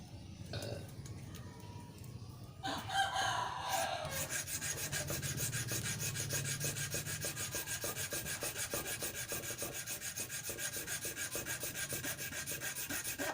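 Steady rasping of an iron file worked back and forth along the edge of a handmade deer call, starting after a few seconds of quieter handling and continuing as a close, even stroking rhythm.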